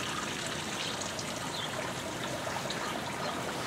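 Water trickles steadily from a homemade bent copper tubing garden sprayer, a soft continuous splashing hiss that stays even and close throughout, with no voices.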